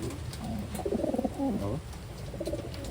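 Pigeons cooing nearby in a loft of Taiwan-type birds, several overlapping soft rhythmic coos in bursts over a steady background hum.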